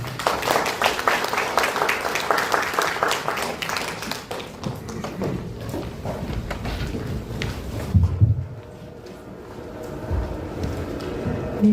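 An audience applauds in a packed conference hall at a discussion forum, with dense steady clapping for about four seconds, then thinning patters and scattered claps fading into room murmur.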